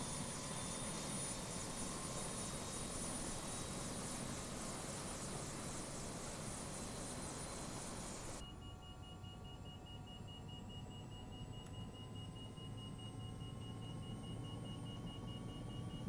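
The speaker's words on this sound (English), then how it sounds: "I hear it revving up" Aircraft engine in Microsoft Flight Simulator 2024, a steady loud drone with a high whine that shifts pitch partway through, continuous and without speech.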